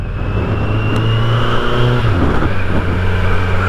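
A 2020 Kawasaki Z900 motorcycle engine runs steadily up close, a loud, continuous low rumble with mild swells in revs and no talking.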